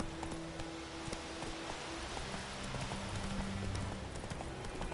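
Horse hooves gallop in The Witcher 3, with a quiet, steady rapid clip-clop rhythm and light ambient game noise.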